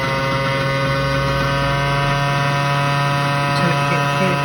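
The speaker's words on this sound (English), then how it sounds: "just until the motor sounds sweet" A CNC machine motor runs at slow speed while milling a box mod: a steady, loud, unbroken whine and hum with a constant pitch and no break in level throughout.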